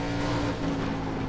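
A pack of race cars in the iRacing simulator roars together out of a turn on an oval track, with a dense, steady engine drone close and loud throughout.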